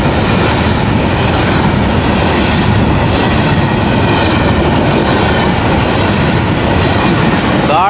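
A high-speed train racing through Jungshahi station in Pakistan, a loud, close, continuous roar of wheels and cars with rhythmic clatter and a faint squeal, filling the whole stretch without talk.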